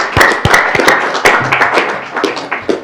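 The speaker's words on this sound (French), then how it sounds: "Je crois qu'on peut encore applaudir notre confrère." Audience applause at a formal session on migration issues, with broken, uneven bursts of clapping over a steady crowd wash, fairly loud and close and without speech.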